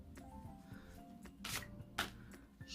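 Tarot cards shuffled by hand during a reading, giving soft papery riffles with two louder bursts of card noise, close and quiet, with no talk.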